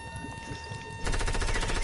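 SMG fire in Fortnite, starting after a quieter stretch of game ambience and becoming a loud, fast rattle of rapid shots in the second half.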